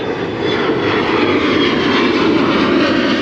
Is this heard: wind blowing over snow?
no